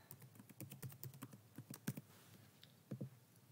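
A password is typed on a computer keyboard in quick, uneven bursts of close, light key clicks, a short pause, then a few final taps.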